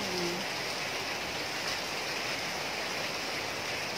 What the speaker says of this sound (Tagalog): Malakas yung ulan ngayon sa labas, laging umuulan ngayon.